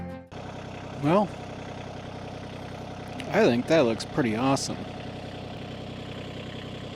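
A Kioti tractor idles with a steady, even mechanical hum in the background while someone speaks over it in short phrases.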